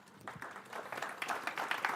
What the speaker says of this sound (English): A round of applause for Tino.